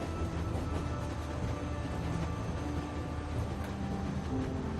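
Steady rumbling of a moving train in The Walking Dead video game, a continuous low rolling drone with faint clatter, heard alone without talk.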